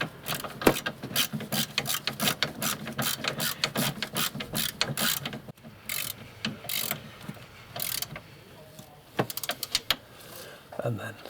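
Socket ratchet wrench working on a filter of an Iveco campervan, rapid close clicking strokes in uneven bursts with short pauses, continuing through most of the clip.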